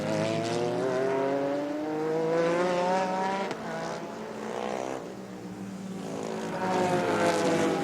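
GT race cars at the 2004 World Challenge GT round go through the Laguna Seca corkscrew, engines rising and falling in pitch as several cars pass one after another at moderate distance.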